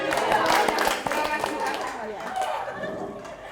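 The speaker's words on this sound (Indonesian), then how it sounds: "Oke, tepuk tangan." A group claps hands together in a dense, uneven burst that stays loud at first and then thins slightly, with voices chattering underneath throughout.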